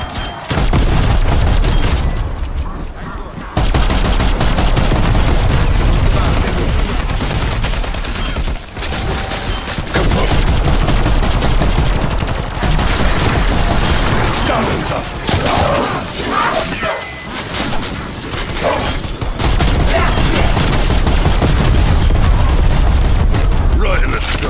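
A DMR 14 rifle fires continuously in a Call of Duty Cold War zombies match, dense, loud, close blasts and booms merging into a nearly unbroken roar with brief pauses, with game voices mixed in.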